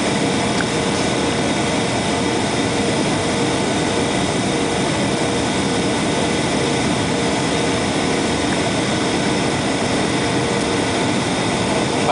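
A United Airlines Airbus A320 jet on final approach and touching down at San Francisco International Airport gives a steady, loud, broadband engine and airflow roar that stays constant throughout.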